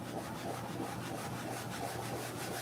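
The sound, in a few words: burnishing pad rubbing a transfer onto a suitcase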